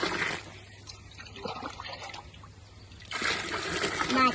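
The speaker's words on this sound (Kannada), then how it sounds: "ಹಾಕ್ತಿದ್ದೀನಿ ನೋಡ್ರಿ ನೀರು." Water poured into a pot for chicken biryani rice: a faint trickle and splashing at the start, then a louder rushing pour toward the end, with quiet background sound in between.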